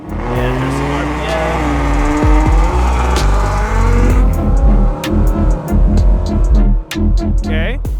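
A car engine on a nitrous versus supercharger test runs at a steady loud drone, then breaks into a string of sharp revs and throttle blips, close and dominant.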